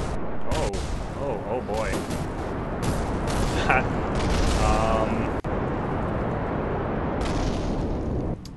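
Spacecraft blowing up in Kerbal Space Program, a loud, dense roar of blasts and crackling debris filling the whole stretch, with a voice reacting briefly over it.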